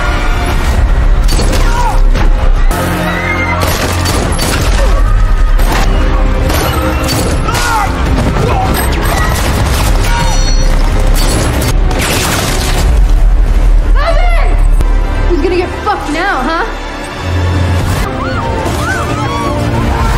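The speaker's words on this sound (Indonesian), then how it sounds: "Ledakan besar membuat orang-orang di dalam panik berlarian." Loud, dense booming blasts and crashing debris roll on continuously, with a chaotic din of impacts and rumbling throughout.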